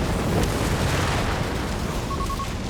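A whiz bang shell explodes during a 3v3 Company of Heroes 3 match on the L'Aquila map: a loud, dense blast and rumble filling the whole moment with sustained booming battle noise and no talk.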